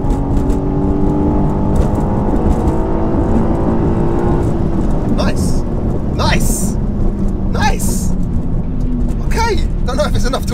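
BMW M3 Competition, rear-wheel drive on a stage one tune, launching in a drag race: a loud engine roar climbs in pitch, drops at a gear change, then builds again, with a commentator talking over it.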